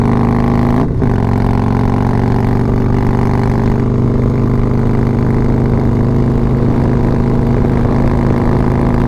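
A motorcycle engine runs hard at speed near seventh gear, a loud, close, sustained drone with strong humming harmonics and wind rush and no clear pauses between shifts.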